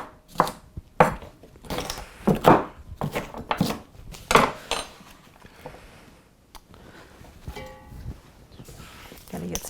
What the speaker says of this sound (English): Same with the bell pepper. Just go ahead, give it a good chopping.